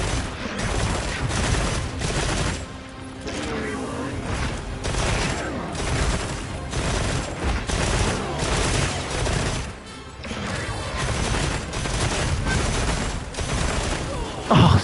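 Rapid bursts of video game gunfire crackle loud and dense throughout, near-continuous volleys with brief lulls, mixed with in-game effects.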